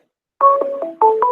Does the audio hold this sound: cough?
no